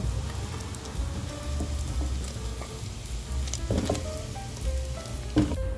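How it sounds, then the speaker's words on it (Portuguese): Bacon frying in a pan with its rendered fat, a steady soft sizzle and crackle throughout with occasional sharper pops and light utensil clinks, close by and with no talk. "O bacon já fritou aqui, está no ponto que eu gosto"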